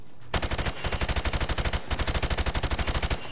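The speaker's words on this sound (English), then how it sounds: "I want you to shoot the targets through the wood" Rapid automatic gunfire in Call of Duty: Modern Warfare Remastered as shots are fired through plywood at targets: two fast, evenly spaced bursts of sharp cracks with a brief pause between them, loud and close.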